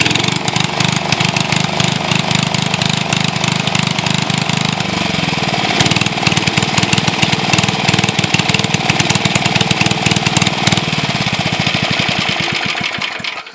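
A 1974 Briggs & Stratton engine on a belt-drive generator runs loud and close, its rough, slightly uneven rumble held steady for the whole stretch, with faint revving surges and no voices.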